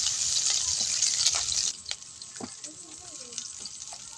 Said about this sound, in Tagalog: Yun, mainit ang mantika. Sinunod ng sibuyas.